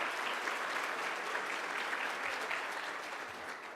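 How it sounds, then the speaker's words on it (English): An audience applauds the cook who prepared a breakfast meeting's food, steady broadband clapping from a roomful of people holding even for several seconds and tapering slightly at the end. "If you would, give Scott a round of applause."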